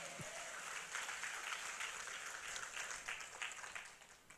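A church congregation applauding during a Friday worship service, a fairly faint, steady wash of many hands clapping together that sustains for several seconds before easing off slightly at the end.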